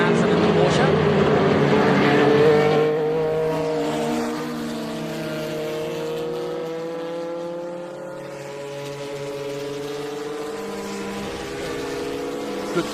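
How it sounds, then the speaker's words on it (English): Trans Am and SVRA race car engines, including a Porsche, roar and drone at a distance at Sebring, their pitch sweeping slowly as they pass, with a loud burst early on before settling. "Good throaty sound to all of these cars."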